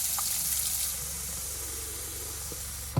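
Water running from an RV sink faucet during winterizing with RV antifreeze, a steady close hiss and splash that continues throughout with a faint knock at the end.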